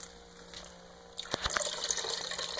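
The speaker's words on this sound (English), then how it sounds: "just put it in a separate pot and save the water" Soaking water drained off black rice pouring into a separate pot, a soft trickle that swells into a fuller splashing pour after about a second, close and moderately quiet.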